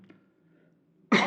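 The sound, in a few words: cough, throat clearing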